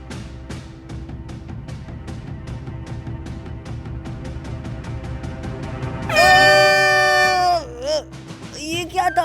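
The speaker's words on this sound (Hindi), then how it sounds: "जाकर मेरा हॉर्न लेकर आओ।" Rapid ticking runs for several seconds, then a loud air horn blares for over a second, followed by a few shorter horn bursts.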